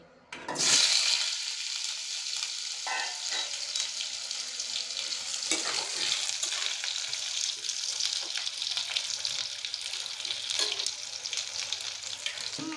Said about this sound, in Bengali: আমার মুঠা করার জন্য কিছু আলু লাগবে আমি এখন ভেজে নিচ্ছি